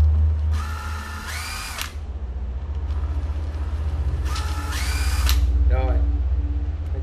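A Japanese cordless battery drill spins up twice in reverse, each whine rising then holding steady for about a second before stopping, with someone talking throughout over a low steady hum.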